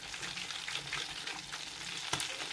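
Tilapia fish frying in oil in a pan, giving a steady, close crackling sizzle throughout with a brief sharper burst of spatter near the end, and no talking.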